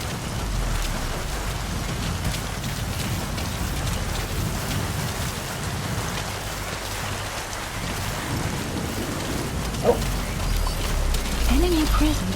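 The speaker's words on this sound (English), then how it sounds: "Sound of rainfall should help to mask your footsteps." Steady rainfall covers the whole stretch in Metal Gear Solid 5, a dense continuous hiss of rain on surfaces at night with a low rumble underneath, loud and unbroken.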